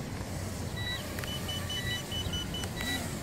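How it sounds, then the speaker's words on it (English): Short electronic beeps from a drone radio transmitter's three-minute flight timer, sounding as a repeated series of brief tones over steady outdoor wind and engine-like background noise. "So my 3-minute buzzer is going off on my transmitter"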